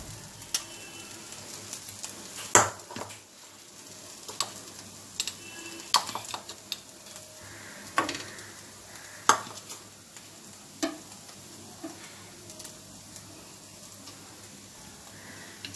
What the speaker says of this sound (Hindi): उल्टी पलटी करके अच्छा से सेक लीजिए, मैंने इसे टर्न किया, दोनों साइड से इसे अच्छा से सेक लीजिए।